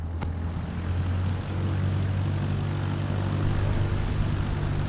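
Simulated aircraft engine during takeoff in MS Flight Simulator 2024, a steady low drone with a hum that swells slightly as power comes up, continuous and moderately loud with no talk.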